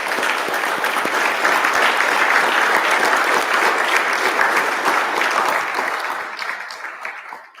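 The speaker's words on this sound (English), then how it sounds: "Let's give them a round of applause." Sustained, loud applause from a seated audience at an Eagle Scout court of honor as the Eagle Scouts stand, steady dense clapping that tapers off near the end.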